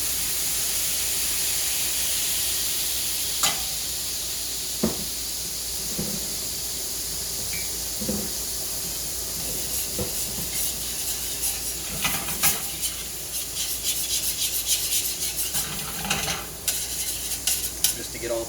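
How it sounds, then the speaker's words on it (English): A hot pan being deglazed with red wine after searing sous vide steak: a steady, loud sizzle and hiss of steam throughout, with occasional scrapes and clinks of a utensil against the pan. "I'm going to take a little red wine. Give my heat back. Deglaze the pan just a little bit."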